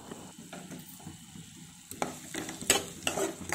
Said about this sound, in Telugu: ఈ ఉల్లిపాయ ముక్కలు కదుపుకుంటూ ఉండాలి కొంచెం వేగేంత వరకు, లేదంటే మాడిపోయే అవకాశం ఉంది.